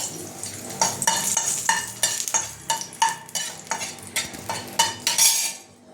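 Dried red chilli and curry leaves frying in mustard oil in a pan, with a quiet sizzle under a rhythmic run of close spatula strokes and scrapes that fade out at the end.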